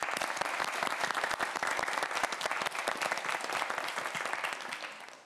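A studio audience at a televised student quiz show claps for the three finalists before the final round: brisk, crisp applause with distinct individual claps, fairly close, fading slightly at the end.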